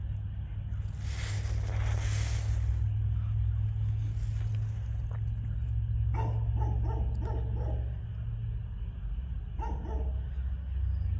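A dog barks in short clustered bursts at a distance, faint against a steady low engine-like rumble at night near an airport.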